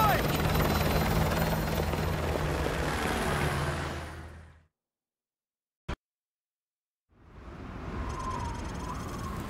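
Helicopter in the Call of Duty Modern Warfare 2 video game, a loud whirring rotor and engine roar that cuts abruptly to silence, a brief click, then the rotor drone fades back in.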